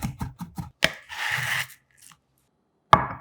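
A knife coarsely chops whole garlic cloves on a cutting board: a quick run of crisp taps, a brief scraping sweep, then a single final chop, close and without talk.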